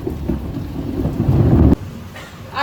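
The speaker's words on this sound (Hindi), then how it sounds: "ये यहाँ की बारिश है, ये रात भर चलने वाली है" Heavy monsoon rain pours down with rumbling thunder during a first-rain night: a loud, dense roar that swells and then cuts off sharply, leaving softer steady rainfall.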